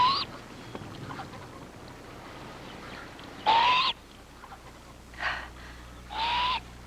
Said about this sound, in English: A great horned owl.